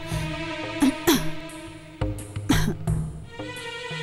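A person coughs several times in short harsh bursts, with a few throat-clearing sounds between, close to the listener.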